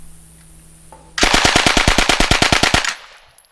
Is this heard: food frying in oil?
no